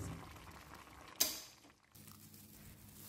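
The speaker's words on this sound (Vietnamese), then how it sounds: "Giờ mình tắt bếp, mình vớt khoai ra." Boiled cassava being lifted out of a cooking pot after the stove is switched off: one sharp metallic clink of a utensil against the pot, then soft bubbling and faint liquid movement at low level.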